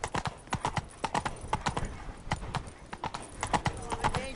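Roach the horse trotting in Witcher 3, hooves striking in a quick, even clip-clop close by, with a rider's voice speaking briefly over the hoofbeats.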